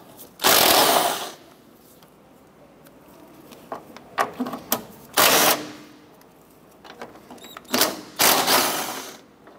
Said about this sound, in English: I'm gonna remove our 3 14-millimeter nuts